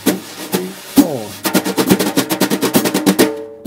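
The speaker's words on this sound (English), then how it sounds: "here's an easy way to soften your double stroke rolls with brushes" Jazz drum brushes play a double stroke roll on a snare, starting with a few spaced strokes and then settling into an even, close, soft swishing pulse.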